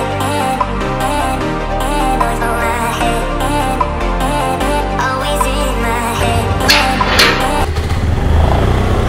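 Motorcycles rev and ride along a road on the way to a college rally, a loud, continuous, close engine drone with shifting pitch and a few brief surges.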